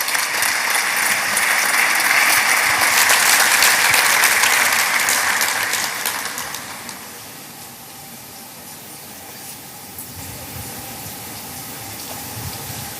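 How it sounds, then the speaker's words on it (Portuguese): Audience in the plenary hall of Angola's National Assembly applauds a performing choir, steady broadband clapping that is loud for about six seconds, then thins and fades to a softer, scattered patter. "uma salva de palmas a este grupo"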